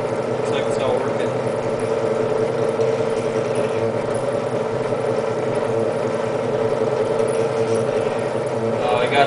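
A CNC mill cutting with a quarter-inch high-speed steel end mill at 1200 RPM on a knife-making job, running as a loud, steady machine hum and whir that continues without a break.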